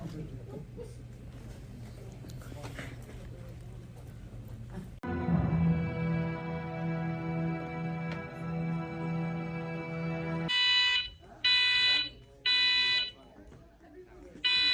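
An alarm blares during a Sound of Freedom movie screening, first as a loud, sustained electronic buzzing tone, then as a series of separate pulsed beeps, with people talking around it.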